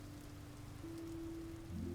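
Rain in the survival video game Vintage Story, a soft, steady patter of raindrops on surfaces at low volume, with a faint low tonal hum underneath.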